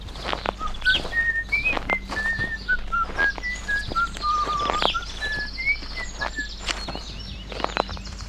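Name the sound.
whistling a pleasant tune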